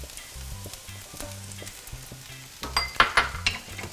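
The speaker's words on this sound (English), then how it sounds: "And we're going to saute this for about a minute." Garlic and ginger sauté in hot sesame oil with onions in a pan for Chinese chicken fried rice, a soft sizzle under a low hum, then louder clinks and scrapes of a utensil stirring near the end.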